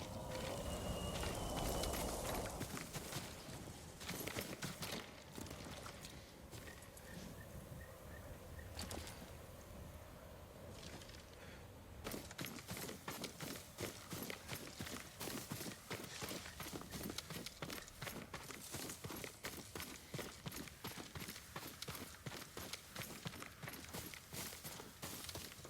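A horse's hooves clip-clop steadily on the ground in Ghost of Tsushima, close and continuous for about half a minute, with a brief quieter stretch early on, and no talk over them.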